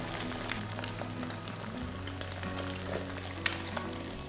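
A sunny-side-up egg fries in a pan, with a steady close sizzle and fine crackling throughout and an occasional sharper pop, set against a low hum.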